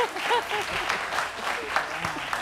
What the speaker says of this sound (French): Festival, on applaudit festival